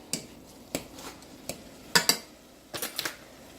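Utensil stirring spinach broth with noodles in a cooking pot: sparse clinks and scrapes of metal against the pot, a few single taps then a quicker cluster near the end, close and fairly quiet.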